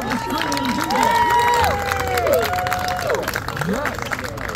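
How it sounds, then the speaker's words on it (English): Cheering and applause from a live horror podcast audience at a Halloween show in Madison, Indiana, with loud sustained crowd noise, whoops and voices over steady clapping for several seconds. "Round of applause for all of our screamers."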